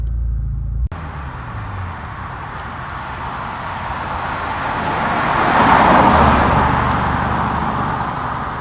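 A 400 bhp Mitsubishi Evo X drives along, a steady rumble of engine and road noise inside the car that gradually swells louder toward the middle, after a short burst of another sound at the start.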